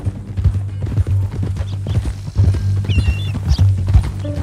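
Steady clip-clop of a horse's hooves in Red Dead Redemption 2, a rhythmic trot carried over a low, constant rumble of ambient game sound with a faint whinny-like tone partway through.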